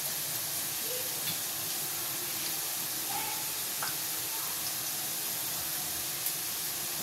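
Steady sizzling hiss of garlic and vegetables frying in hot oil for a okra (bendakaaya) fry, continuous and fairly even, with faint clinks now and then.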